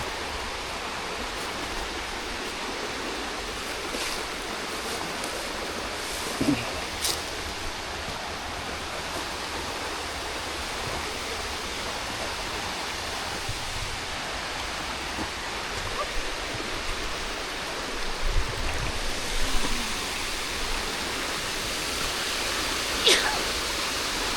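Water rushes steadily at Little Egypt Waterfalls in Tennessee, a broad, constant hiss of falling water and creek flow that stays even and close throughout.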